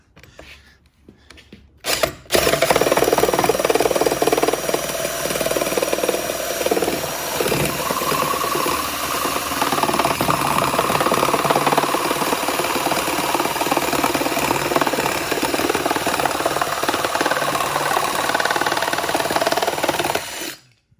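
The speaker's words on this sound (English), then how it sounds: "I chucked it up in this drill, and right, it has this up and down action there, reciprocating." An antique brass reciprocating saw chucked into a drill runs continuously at close range, giving a dense mechanical whirring and rattling from the up-and-down action after a quiet start, then it cuts off abruptly at the end.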